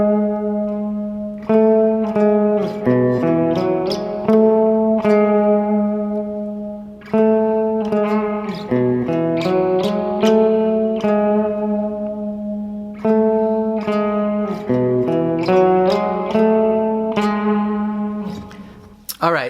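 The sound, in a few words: guitar riff played slowly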